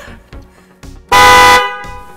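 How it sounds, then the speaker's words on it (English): Bosch aftermarket car horn, one of the Evolution, Strider or Europa models powered by a simple bench setup, blasts a single loud half-second honk, preceded by faint rustling and light talk and followed by a fading ring. "Really simple contraption we have here to power these horns."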